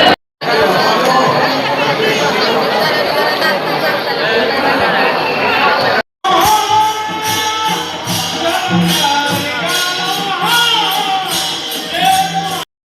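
Crowd at the Sant Tukaram Maharaj palkhi procession in Nimgaon Ketki village, a loud, dense, continuous hubbub of many voices, briefly cut off midway and then resuming just as thick.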